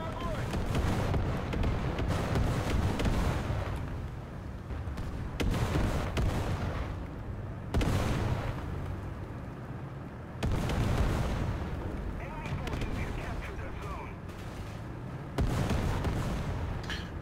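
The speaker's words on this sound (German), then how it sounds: "Artillerie auf C." Heavy artillery shells from a War Thunder clan battle with T-55A tanks slam down in a string of deep, booming blasts, each burst rolling out over a constant rumble of engine and battlefield noise, with voices talking throughout.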